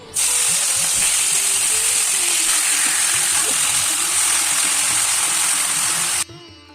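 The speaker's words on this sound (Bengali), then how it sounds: "তেলে আবারও সামান্য কিছুটা লবণ দিয়ে মাংসটাকে ভেজে নেব" Chicken pieces fry in hot oil in a wok, a loud, dense, steady sizzle close by for about six seconds before cutting off, with faint clinks of stirring underneath.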